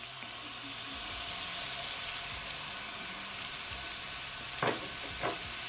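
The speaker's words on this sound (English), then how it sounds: "So I'm adding my garlic now." Garlic sizzles steadily in hot oil in a pot over medium heat, a constant close hiss throughout with a couple of brief louder spits near the end.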